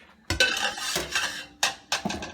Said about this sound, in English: want to make sure that I get all the nice gravy into the serving dish as much as possible